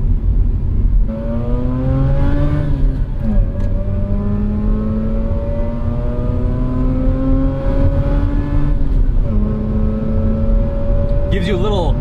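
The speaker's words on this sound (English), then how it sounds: "I just love how buttery smooth this engine is." A sports car engine, from a 2004 Mazda RX-8 or 2022 Toyota GR86, revs steadily upward through the gears, loud and continuous, its pitch climbing, dropping at each shift, and climbing again.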